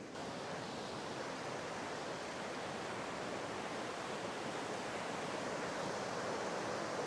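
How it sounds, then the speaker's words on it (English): Steady rushing water of a Colorado stream beside a campsite flows without a break, a dense even wash of sound close by, with no voices. "We found a campsite right next to a stream."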